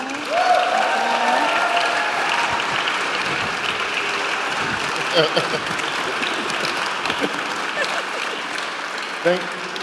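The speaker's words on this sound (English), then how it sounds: "a final applause for our panelists here" An audience claps steadily throughout, a dense roomful of applause with a few louder claps standing out and some voices beneath.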